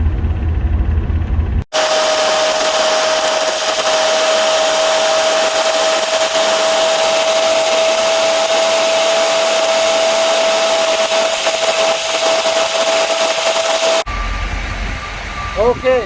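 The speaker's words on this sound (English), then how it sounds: "Turn that pump on. We can still hear it." Electric fuel pump running in a car, a loud, steady whine with a constant pitch that holds for about twelve seconds, cut off sharply at both ends.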